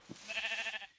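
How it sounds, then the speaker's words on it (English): A sheep bleats once in a Minecraft horror mod, a wavering, drawn-out cry of under a second, moderately loud and alone after a faint low thump. "Oh, it's a sheep."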